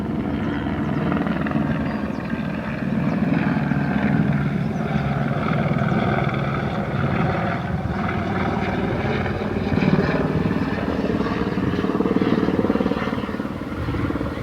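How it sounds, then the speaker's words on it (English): A helicopter circles overhead at a fairly high altitude above a California citrus park, its rotor chop a steady, moderately loud drone that swells and fades slightly as it orbits, with no speech. "this helicopter keeps orbiting around me, and now it's at a higher altitude."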